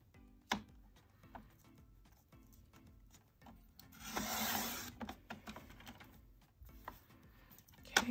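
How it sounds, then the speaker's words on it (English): Cardstock being trimmed for a Happy Planner Valentine's Day spread, with scattered soft taps and rubs and a louder rasping cut in the middle, close and fairly quiet, with no talk. "I think it's a little bit too big on this side, so I'm gonna trim it down a little bit more."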